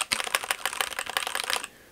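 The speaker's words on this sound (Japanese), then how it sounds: "うるさいといえばメカニカルキーボード、この音です。" Rapid clacking of a mechanical keyboard, a fast irregular run of sharp loud keystrokes up close that stops abruptly near the end, leaving quiet room tone.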